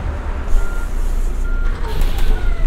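Bus in the City Bus Simulator München game backing up, its reversing beeper sounding repeated steady tones over a low engine rumble, with faint traffic noise throughout.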